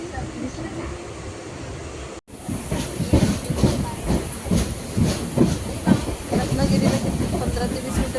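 A train from Ratnagiri in the Konkan rumbles along with rhythmic clacking and hissing after a brief muffled start, the steady mechanical noise close and loud.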